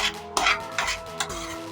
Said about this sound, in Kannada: ಈಗ ಮೊಟ್ಟೆ ಹಾಕಿದ್ಮೇಲೆ ನಾನು ಕೈ ಆಡಿಸ್ತಾನೆ ಇದ್ದೀನಿ